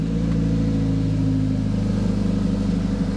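A Honda Civic engine idles steadily with an aftermarket eBay 4-to-1 exhaust manifold feeding a standard catalytic converter, giving a close, even, low rumble that holds alone for a few seconds.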